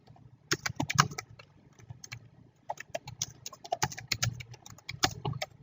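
Quick bursts of keystrokes clatter on a computer keyboard, close and fairly quiet, with irregular rhythm and a brief pause in the middle, with no voices.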